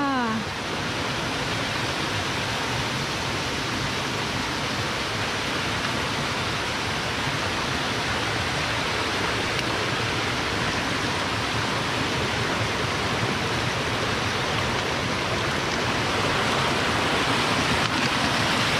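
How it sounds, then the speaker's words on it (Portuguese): Many waterfalls pour around an abandoned mine, a loud, steady broadband rush of falling water that fills the whole stretch without letup, close and continuous. "É cachoeira para todos os lados!"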